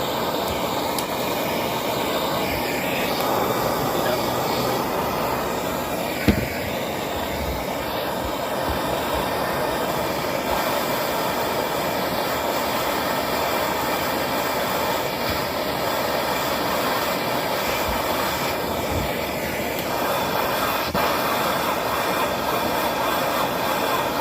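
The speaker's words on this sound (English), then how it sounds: "let's use some propane. Heat this up." Propane torch heating a part during an Infiniti FX35 engine belt replacement, a loud continuous roaring hiss held steady from start to finish, with a single brief click partway through; no voices.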